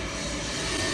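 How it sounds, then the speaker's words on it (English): Airplane coming in to land at Kempville airport, a brief steady broadband engine roar heard at moderate distance, continuous with no talking. "we decided to stop at the airport to watch the planes landing"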